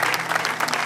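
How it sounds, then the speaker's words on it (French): An audience applauds an artist at a Congolese tribute event, giving a short burst of dense, steady clapping. "nous allons applaudir très très fort pour lui"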